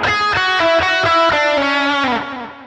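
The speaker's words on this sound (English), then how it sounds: "the lead sound has a boost, a delay, a reverb on" An electric guitar through a NUX Trident modeller with boost, delay and reverb plays a distorted lead line of quick repeated notes, ending on a sustained note that rings out with echo and reverb.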